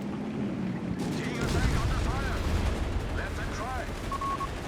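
Bursts of MG-42 machine gun fire in the video game Company of Heroes 3, fairly faint rattling volleys mixed with distant battle rumble and other combat effects, under a commentator's voice.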